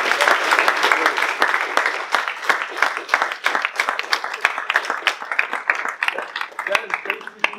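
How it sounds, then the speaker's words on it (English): An audience at a cadet promotion ceremony breaks into a round of applause, crisp clapping from many hands that starts strong and gradually thins out, close and fairly loud. "Please, another round of applause."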